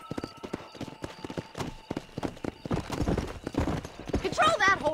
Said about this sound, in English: Control that horse, will ya?